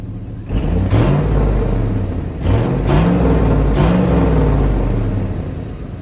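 A Chevrolet Tahoe engine revs loudly up close. Three or four separate throttle blips rise and fall over a steady, rumbling idle.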